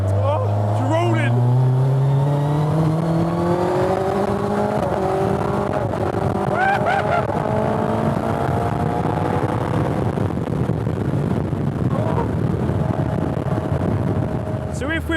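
A Suzuki Hayabusa-powered MK Indy RR car engine revs up through rising gears, then settles into a loud, sustained drone on a test drive, with a voice talking over it.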